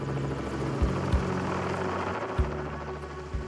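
A helicopter airlifts an animal out of Australian wetland, its rotor drone steady and loud throughout, with low thumping pulses recurring every second or so and no voices.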